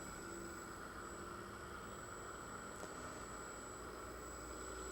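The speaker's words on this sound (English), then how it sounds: "we're going to spin the rotor at our balancing speed." A heavy rotor ramps up toward balancing speed on a two-plane balancing rig, making a steady broadband mechanical whir with a sustained tonal hum. It stays loud and even throughout, with no voices.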